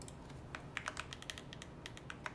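Typing on a computer keyboard, sharp clacky keystrokes in an irregular quick rhythm, close and clear with no talking.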